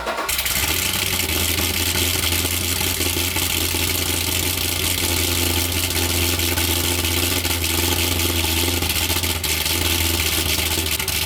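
A Corvette built as the NFS Most Wanted Cross car idles loud and close through stock mufflers, a steady deep rumble that barely changes over several seconds.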